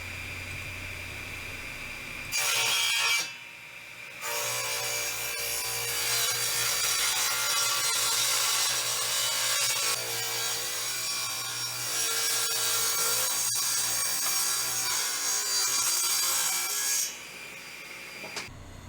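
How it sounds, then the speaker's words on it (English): A table saw rips purple heart wood boards lengthwise, a loud sustained whining buzz that starts, pauses briefly, then runs steadily for a long cut before winding down, with no voices. "I brought them over to the table saw and I started ripping them down"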